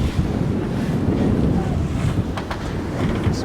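Steady wind buffets the microphone and waves wash continuously against the hulls of a Leopard 45 catamaran under sail, a dense, even roar with no speech.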